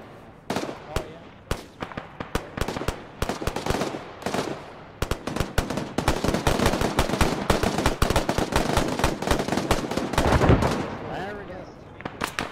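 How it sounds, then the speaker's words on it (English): Video game gunfire in the Operation Lumberjack mission: rapid bursts of sharp rifle and machine-gun shots, some near and loud, others more distant, packed densely with a heavy rumble near the end, with voices talking over it. "Still taking fire. Northeast. Heavy rounds coming in."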